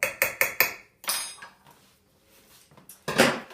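Spoon scraping and tapping against a bowl while a wet mixture is stirred into flour for buttermilk scones: four quick sharp clinks, then softer scraping, and a final louder scrape, close by with no talk.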